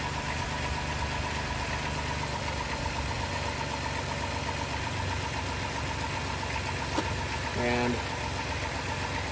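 Steady car engine idling throughout, with a block tester in the radiator checking for a blown head gasket, a constant low hum with harmonic tones, close by; a brief word is spoken near the end and a short rising whine appears.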